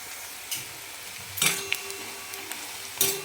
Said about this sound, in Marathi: कांदा तळत आलेला आहे.